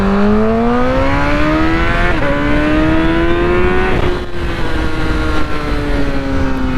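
A Honda CBR1000RR SP1 1000cc sportbike engine screams loudly as it accelerates hard, pitch climbing through two gear changes in a continuous close-up roar.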